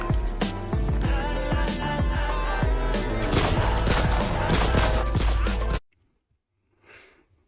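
Bursts of gunfire are mixed into loud, dense rap music from a Mongolian track, then the music cuts off abruptly, leaving near silence and a single faint breath.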